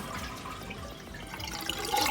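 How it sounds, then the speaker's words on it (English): Water drains out of a toilet tank after a worn flapper is lifted, a close gurgling wash and trickle that swells louder toward the end, with no talking. "So pull that up. All the water's gonna drain"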